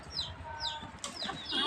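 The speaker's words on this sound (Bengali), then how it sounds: "তো দেখো আমার হাঁস মুরগি কি সুন্দর করে খাচ্ছে" Ducks and chickens are fed paddy rice grains at home, and a hen's repeated clucks and rising calls sound close and clear over a low background murmur.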